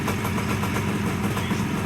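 A Suzuki GT185 two-stroke twin motorcycle from a barn find, with a freshly rebuilt carburetor, idling close by with a steady, raspy, buzzing rumble that holds even throughout without revving.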